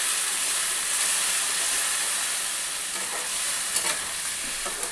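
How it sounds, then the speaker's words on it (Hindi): Ground spice masala, blended in a mixer, fries steadily in hot oil with a continuous loud sizzle and hiss, broken by faint scraping as it is stirred. "अब इसमें हम डालेंगे जो हमने मिक्सी में मसाले पीसे हैं, और इसे अच्छी तरह से हमें भून लेना है।"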